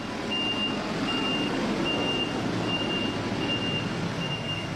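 A truck's reversing alarm beeps in a regular repeating pattern over a constant diesel engine rumble while an excavator loads 22 tons of rotten dry onions at a garbage site in Şanlıurfa.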